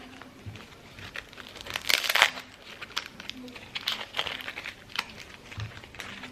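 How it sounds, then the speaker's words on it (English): Papery husks are peeled off small tomatillos, giving close, irregular crinkling and tearing rustles with a louder crackling burst partway through. "so now I have my tomatillos here. I'm gonna go ahead and start peeling them."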